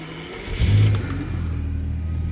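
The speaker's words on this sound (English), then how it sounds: "So allow me to just start the car." A Jaguar XJS engine cranks and catches with a loud surge, then settles into a steady, rumbling idle close by.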